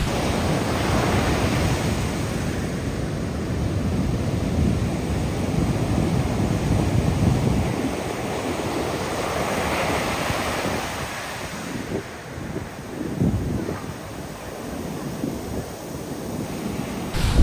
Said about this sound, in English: it was throwing off some huge waves over here